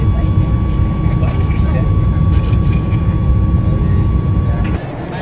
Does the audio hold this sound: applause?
no